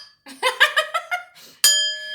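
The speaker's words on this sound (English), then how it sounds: "They're telling me to ring my bell." A small bell is rung: a run of short tinkling notes is followed by one sharp strike that rings on with a clear, sustained tone, close and fairly loud.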